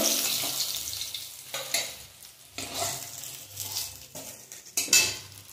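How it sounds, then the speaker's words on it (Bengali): Rohu fish pieces fry in oil with a close sizzle, broken by spatula scrapes and clinks against the pan in irregular bursts. "বাকি মাছগুলো এইভাবে ভেজে নেব।"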